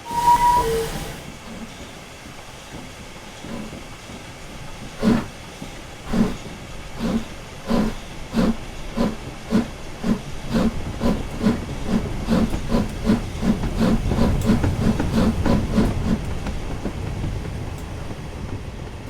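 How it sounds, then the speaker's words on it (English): A Caledonian Railway 191 class steam locomotive gives off a constant hiss of steam while its exhaust beats in regular sharp chuffs that quicken and grow louder toward the end. "the driving wheels are quarterized on real steam locomotives, and the one you're seeing on screen now is the Caledonian Railway 191 class"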